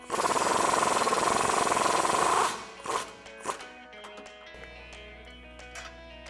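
An impact wrench with an 18mm socket and long extension reaches through the coil spring to remove a rear suspension bolt on a 2015-2025 Mustang. It hammers loudly and steadily for over two seconds, then a few close clunks and rattles follow.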